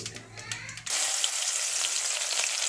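Mustard seeds dropped into hot oil, a brief quieter stretch with faint clatter giving way to a sudden loud, dense sizzle and crackle that continues steadily to the end.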